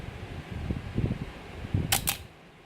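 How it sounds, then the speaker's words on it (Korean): A Canon F-1 flagship film camera fires its shutter in two sharp, close mechanical clicks in quick succession, heard alone after some soft handling noise. "이게 정말 그 매력 있는 게 셔터 소리예요"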